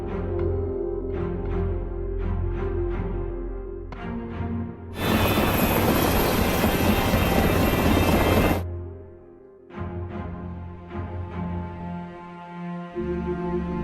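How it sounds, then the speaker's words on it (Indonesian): A film helicopter roars in loudly for about three and a half seconds, a thick droning wash between stretches of background music. "Lalu Leng Feng dibawa dengan helikopter dan diturunkan di tengah-tengah hutan"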